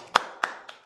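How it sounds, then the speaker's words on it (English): Three sharp hand claps spaced about a quarter second apart, close and distinct, fading slightly in strength, heard alone at an online accountancy session. "let's give a round of applause to them"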